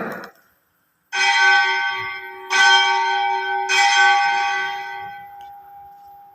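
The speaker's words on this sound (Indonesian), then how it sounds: "Ini lonceng bertubi-tubi tandanya." A church bell strikes three times, loud and close, each stroke ringing out and overlapping the next.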